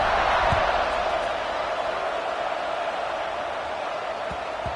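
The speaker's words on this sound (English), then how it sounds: "this crowd is buzzing after that last score" A large stadium crowd at a college football game in College Football 26 keeps up a steady, loud, dense roar and buzz that fills the whole stretch without letting up.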